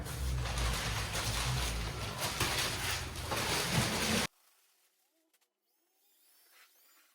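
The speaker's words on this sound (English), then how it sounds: "so we can see how quickly they mixed up the plaster" A plastering mixer churns plaster in a loud, continuous whirring drone for about four seconds, then cuts off abruptly, leaving near silence with faint rustles.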